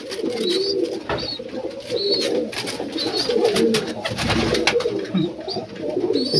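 Pet pigeons sit in pairs in a loft and coo in soft, repeated calls up close. The cooing runs through the whole clip over light rustling and faint background noise.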